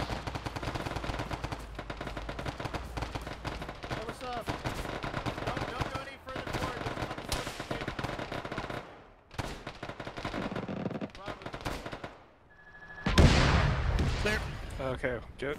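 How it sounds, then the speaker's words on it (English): Enemy gunfire in a military video game, a long stretch of dense shooting and bursts with a couple of brief lulls and a loud burst near the end, mixed under voices talking. "They're shooting at us."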